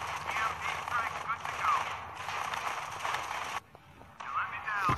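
Turrets fire in a video game battle, sending rapid bursts of gunfire across a busy mix of game sounds, loud and near, with a brief lull before the firing resumes.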